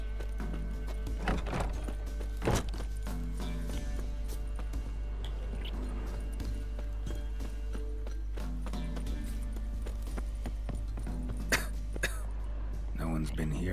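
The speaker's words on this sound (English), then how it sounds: "what's he coughing at?" A character coughs and clears his throat in The Witcher 3 game, a few short rough bursts over horse hoof clip-clops and a steady game background hum, with someone talking at times.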